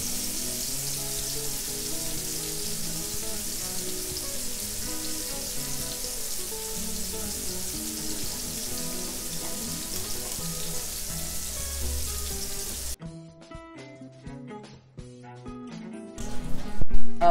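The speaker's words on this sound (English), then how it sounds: "After frying the fish" Fish frying in a pan gives a constant bubbling sizzle for most of the time, then cuts off abruptly into quieter clinks and handling near the end.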